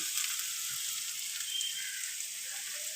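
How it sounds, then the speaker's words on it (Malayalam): Two small tomatoes sauté in a pan with steady, faint sizzling and a soft hiss throughout, with no voices. "അപ്പം 2 ചെറിയ തക്കാളിപ്പഴം കൊണ്ടിട്ട് അതും ഒന്ന് വഴട്ടുവാണ്"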